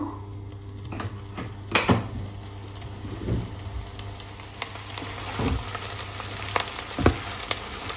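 Red amaranth greens frying in a little oil, with scattered spatula scrapes and stirring clatters over a low, steady hum and faint sizzle.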